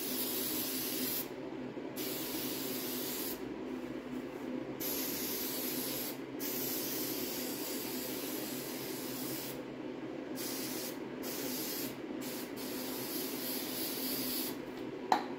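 A long steady hiss of spray glue from an aerosol can, continuous and close, with a few brief pauses between bursts, while fitting Triumph TR6 seat covers.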